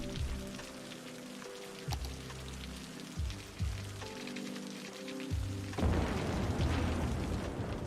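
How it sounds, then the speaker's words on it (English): Heavy rainstorm in the city-building game Cities: Skylines, a dense patter of rain that bursts in loudly near the end, layered over a low droning game hum. "Heavy rainstorm."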